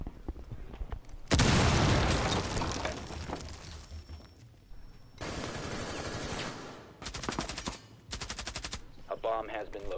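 Rainbow Six Siege gunfire: loud bursts of rapid automatic shots in several separated volleys, close and dominant, with brief gaps and game sounds between them.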